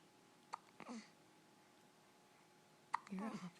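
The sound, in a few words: baby hiccups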